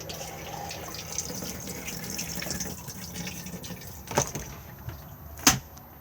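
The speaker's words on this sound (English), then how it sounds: "To open to the Dometic toilet, just pull like so, and then to flush, just press the button just here." A Dometic cassette toilet in a Coachman VIP 460 caravan flushes, a steady wash of running water lasting several seconds, followed by a couple of sharp clicks or clunks near the end.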